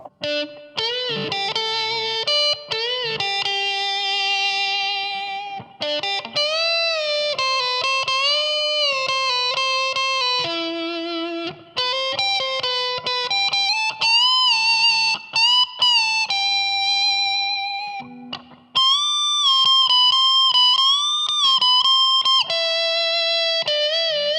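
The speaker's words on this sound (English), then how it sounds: "This is a overdriven tone with the Harley Benton American sound, the Joyo" A Harley Benton CST 24T electric guitar runs through a Joyo American Sound pedal for an overdriven tone, playing loud, continuous single-note melodic lines with bends and a few brief pauses.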